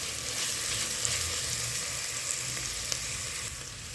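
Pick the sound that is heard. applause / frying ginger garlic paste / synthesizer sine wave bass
frying ginger garlic paste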